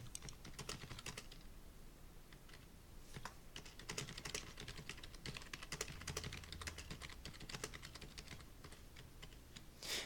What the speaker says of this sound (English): So I'll just press enter on my keyboard to start a new line and add the question.